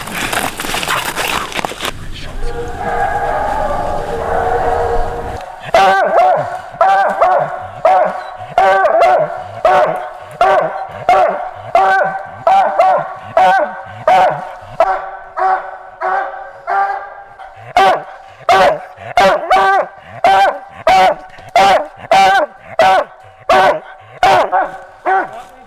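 Coon hounds bark and bawl steadily at a raccoon treed during a night coon hunt tournament, a rapid run of loud, close, regularly spaced barks following an opening stretch of mixed noise.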